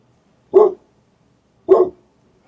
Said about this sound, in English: Shadow, what's going on? The barking